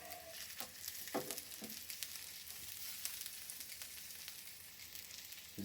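Onions sizzling on burgers atop a Blackstone 22-inch E-Series electric griddle, a quiet, continuous sizzle broken by a few soft spatula scrapes and clicks, no voices.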